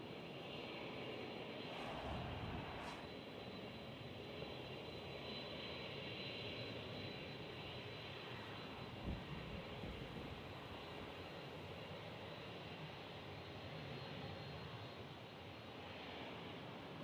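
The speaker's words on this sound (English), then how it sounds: "Welcome, Cathay Pacific. Beautiful landing." A Cathay Pacific airliner arriving from Hong Kong lands at San Francisco International Airport, its jet engines a steady distant roar with a broad rushing hiss and a couple of soft bumps, quite faint and unbroken.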